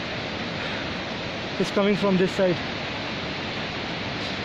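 A jungle river flows with a constant, full rushing hiss close by, while someone speaks briefly over it.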